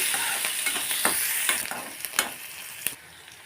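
Potato kurma with onions frying and being stirred in a pan, a steady close sizzle broken by several sharp scraping stir strokes, with no talking.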